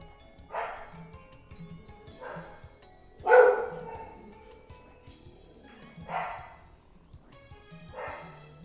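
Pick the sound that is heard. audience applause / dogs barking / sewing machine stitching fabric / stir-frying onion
dogs barking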